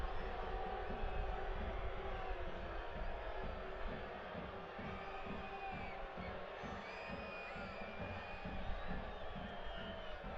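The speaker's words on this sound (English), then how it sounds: "groans go up from the crowd" A football crowd at a Richmond Kickers versus Central Valley Fuego FC match murmurs and groans steadily throughout, a broad continuous roar of many voices with scattered shouts and whoops rising above it.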